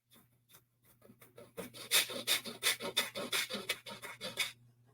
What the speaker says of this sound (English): there's this breathing method, like the breath of fire